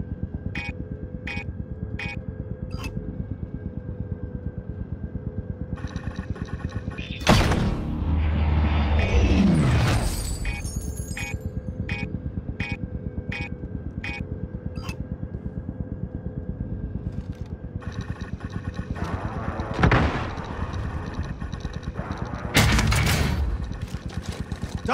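Airstrike in Call of Duty Warzone: over a steady engine drone and rhythmic game beeps, a loud rumbling explosion swells and fades, followed later by two shorter heavy blasts.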